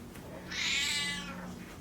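A pet cat named Bippy meows once, a drawn-out, fairly quiet cry indoors with no talking over it.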